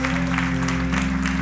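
A church congregation claps together after a preacher's talk, a dense steady wash of applause filling the short moment, with a low tonal hum underneath.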